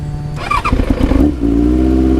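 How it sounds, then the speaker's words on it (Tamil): Benelli 600i motorcycle starting up, a loud close starter crank and catch followed by a brief sputter settling into a deep, steady idling exhaust note. "இதுதான் வந்து வண்டியோட எக்ஸாஸ்ட் நோட்டு"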